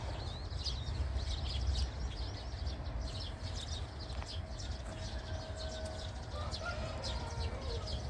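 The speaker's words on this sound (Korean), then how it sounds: "날이 흐려서 그랬는지 오늘은 새소리가 유난히 더 많이 나요." Birds chirp and sing in repeated short calls from a moderate distance on a cloudy day, over a low rumbling outdoor background near a wild strawberry plot.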